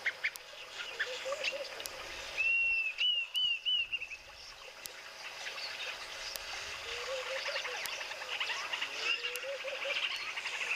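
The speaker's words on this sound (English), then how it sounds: "Yes, it's one of our spur-winged geese." A spur-winged goose calls outdoors with scattered honking, quacking notes and chirps over a steady wild background hiss, the calls rising and falling across the stretch.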